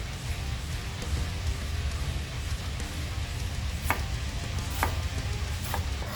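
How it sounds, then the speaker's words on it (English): A knife dices an onion on a cutting board while loaded potato soup is being made, giving a steady background of soft chopping with a few sharper knife taps standing out near the end. "when you're dicing an onion"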